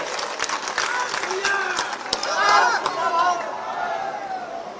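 A political rally crowd for the BSP in Ghaziabad claps in a dense, continuous wash, swelling briefly midway, with chatter and scattered voices woven under the applause.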